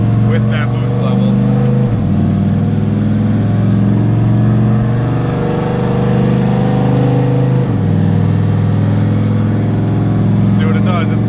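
A turbocharged LS-swapped Buick Regal engine runs loud and close with a deep, steady drone that dips and rises twice in pitch as the revs shift, with people talking over it.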